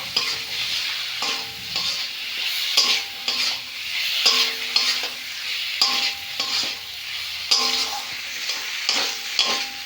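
Ground cumin and coriander paste with chili powder being stir-fried in a pan, a loud continuous sizzle broken by rhythmic scraping strokes of a spoon every second or so.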